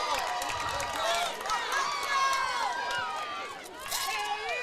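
A softball crowd cheers and shouts at a regional semifinal game, with many overlapping voices rising and falling in a lively, sustained swell that carries on through the whole stretch.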